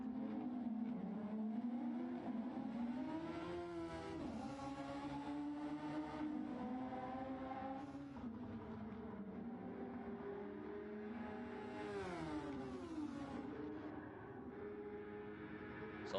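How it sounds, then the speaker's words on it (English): Formula-style race cars lapping a track during GTSF1 winter testing in a racing game, with steady high engine whine shifting pitch as the cars rise and fall through the gears, running continuously with no talk. "A little wheel-to-wheel action going on here."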